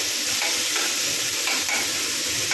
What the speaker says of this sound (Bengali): এখন টমেটোটা দিয়ে দেব।